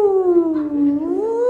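During an improv comedy show, a performer's voice imitates a dog's long howl: one sustained, wavering tonal cry that dips and rises again, loud and close.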